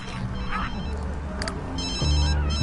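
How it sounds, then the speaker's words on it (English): A telephone rings in The Sims 3 video game, a repeated electronic ringtone heard in short bursts over game music and background sounds. "Answer the phone."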